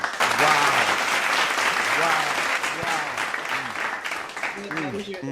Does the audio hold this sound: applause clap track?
yes